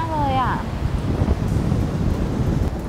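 Strong wind gusts blowing outdoors at an old historic site in Myanmar, a steady loud broadband rush filling the whole clip, with a short voice heard at the start.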